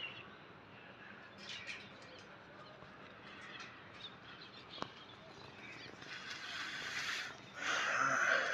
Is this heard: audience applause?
no